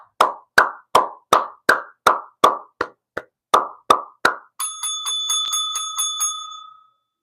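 One person clapping hands about a dozen times in a steady, close, sharp rhythm, followed by a sustained ringing bell-like tone with repeated pulses.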